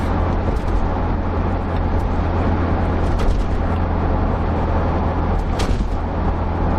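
Land Rover Discovery 2 cruising in top gear at 55 mph, a steady low engine drone mixed with road and wind roar from inside the cabin, continuous and fairly loud.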